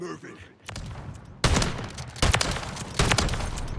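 Gunfire from the video game Call of Duty cracks out in loud, rapid bursts of several shots, with a voice speaking over the opening.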